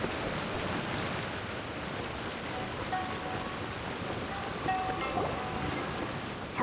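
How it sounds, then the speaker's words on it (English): A constant rushing wash of a video game waterfall fills the clip, broad and steady, with a few faint tonal blips over the roar. "That's him at the waterfall."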